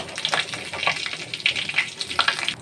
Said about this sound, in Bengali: এর মধ্যে শুকনো লঙ্কা, তেজপাতা আর জিরে ফোড়ন দেব, দিয়ে ওটা হতে দেব।